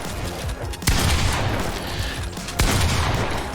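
Gunfire in the video game Fortnite Season 7 rings out as a dense fusillade, with two sharp loud shots standing out over a steady background of game noise and rumble.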